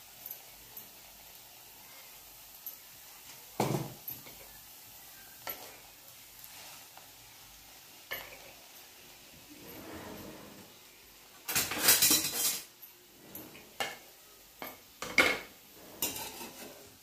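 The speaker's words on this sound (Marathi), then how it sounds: "आता हा कढीपत्ता आपण याच्यात कडक करून घेऊ" Curry leaves being stirred and roasted in a pan on a low flame: soft sizzling with a spoon scraping and clinking against the metal, growing into louder bursts of crackle and stirring, close and with no talk.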